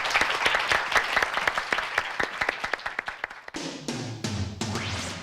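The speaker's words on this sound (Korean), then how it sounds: "두 팀에게 박수 한번 부탁드릴게요." A studio audience at a Korean high school debate competition applauds both debate teams, dense clapping that thins after a few seconds as a musical sting takes over.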